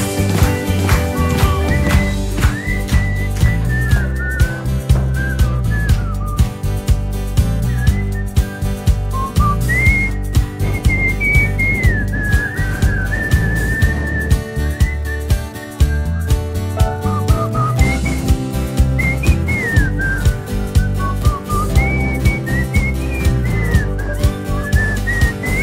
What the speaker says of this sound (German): Pfeifen-Solo!